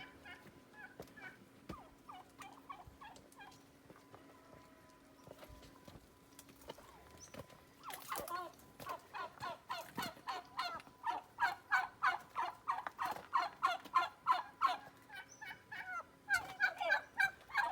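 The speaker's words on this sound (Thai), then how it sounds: "ข้าเจ้าก็เลี้ยงไก่ แล้วก็เลี้ยงไก่งวงค่ะ" Turkeys gobbling in a rural Thai backyard flock kept alongside chickens, a few scattered calls at first, then a loud run of repeated rapid gobbles from close by, with other fowl clucking in the background.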